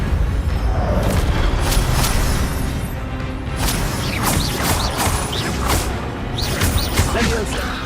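Expelliarmus disarming spell cast amid fast spell combat in Hogwarts Legacy, with booming impacts, whooshes and clanking mechanisms layered over game music, loud and continuous, with a voice calling out spell names.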